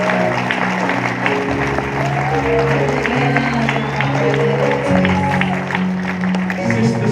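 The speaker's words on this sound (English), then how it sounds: "you people need to clap for them" A graduation audience applauds the administrators with sustained, dense clapping and crowd noise that runs the whole time over steady, held musical tones.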